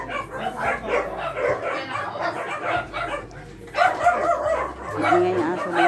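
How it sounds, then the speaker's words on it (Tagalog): A dog barks and yips in short bursts at close range, mixed with people talking and a few whimpering sounds in a home setting. "Ingay ang aso dito."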